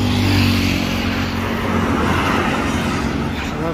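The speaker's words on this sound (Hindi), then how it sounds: "गाड़ियाँ जा रही हैं 90, 100, 120" Cars speeding past on a Delhi highway at high speed, a continuous loud roar of tyres and engines with passing whooshes rising and fading, heard from a moving vehicle.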